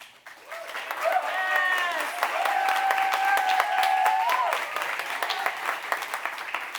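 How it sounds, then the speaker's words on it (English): Audience at an interactive debate breaking into loud sustained applause mixed with high whoops and cheering voices, swelling and holding for several seconds before thinning into scattered claps. "please cheer and clap if you agree with this motion"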